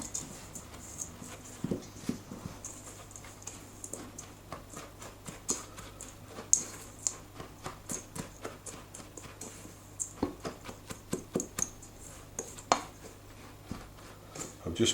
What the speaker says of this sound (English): We'll just mix those together.